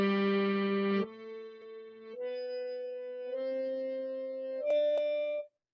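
A harmonium plays a slow scale starting on D using only the white keys, a series of sustained reedy notes stepping upward one by one, close and clear with no talk.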